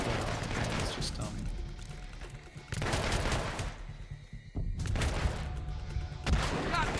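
Gunfire rattles in the stealth action game Hitman Absolution, with bursts of shots and booms in loud stretches broken by brief quieter pauses, while people talk over it.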